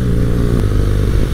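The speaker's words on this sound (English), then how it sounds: "I love it when the temperature gets cooler because the boxer engine just sounds phenomenal." A BMW R nineT motorcycle's boxer engine rumbles loudly and close by on a cool night, a deep, steady, throbbing growl that fills the whole moment.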